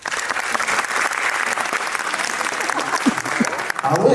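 A stand-up comedy audience at the Théâtre de Liège claps in steady, dense applause with some cheering, loud and continuous, before a voice cuts in near the end.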